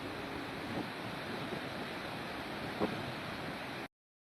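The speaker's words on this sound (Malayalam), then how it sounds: "2 ദിവസം മുമ്പ് പെയ്ത മഴയിലുള്ള വെള്ളച്ചാട്ടമാണ് ഇപ്പോൾ നമ്മളിത് കാണുന്നത്" Meenvallam waterfall, swollen by rain from two days earlier, gives a steady broadband rushing roar mixed with wind buffeting the microphone, holding constant before cutting off abruptly.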